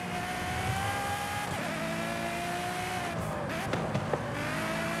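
A Ferrari 599 GTO driven in Forza Horizon 5 holds a steady engine drone with gear shifts and rising revs, then brief tyre squeal near the end, all fairly close.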